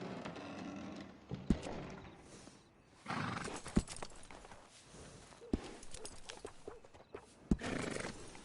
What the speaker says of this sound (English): good-looking horse there